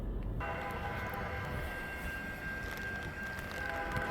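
CN northbound freight train rolling by at Ladysmith, a steady loud rumble of rail cars passing close with a faint sustained whine of wheels, no talking.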